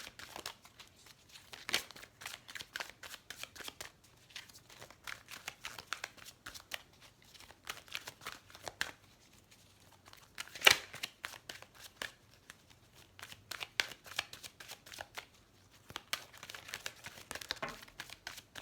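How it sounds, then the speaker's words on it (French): Tarot cards are shuffled up close in a long, irregular run of crisp riffling and slapping bursts with brief pauses in between, all quiet and with no voice. "Allez, on va tirer quelques cartes pour les couples."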